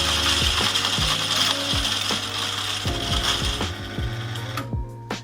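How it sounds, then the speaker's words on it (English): La Marzocco Pico coffee grinder grinding a single dose of beans: a loud, close mechanical whir with repeated ratcheting clicks and rattles throughout. "it just starts grinding your single dose for this cup"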